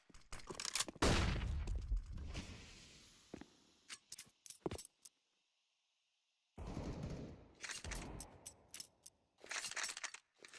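CZ pistol fire in a CS:GO match on Nuke, sharp bursts of rapid shots in clusters separated by a brief near-silent gap, with metallic clinks and shell-like rattles between volleys.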